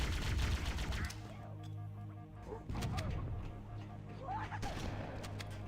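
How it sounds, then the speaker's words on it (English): Gunfire in Halo: Combat Evolved, several quick shots and bursts over a busy game soundscape, fairly loud at first and then quieter, with scattered impacts. "And guns blazing."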